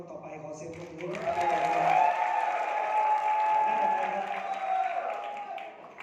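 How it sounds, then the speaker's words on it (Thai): Audience applause at a business seminar, a soft steady bed of clapping from a crowd, with a sustained tonal hum or voice-like tone running over it through the middle and fading at the end. "ขอเสียงปรบมือ"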